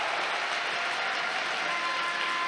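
Fans in the stands at a men's volleyball Super League match between ASK and Dynamo Moscow cheer and applaud, a steady broad roar of clapping and crowd noise from a distance.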